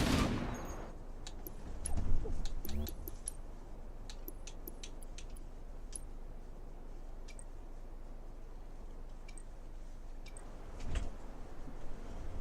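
Gunfire in the video game Halo: Campaign Evolved, faint bursts of rapid shots and clicky impacts scattered over a low steady rumble, with louder clusters at the start and near the end.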